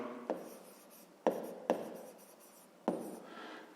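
A pen or pencil writes out a math problem on paper, giving soft close scratchy strokes with a few sharper taps as new marks begin, quiet and with no talking.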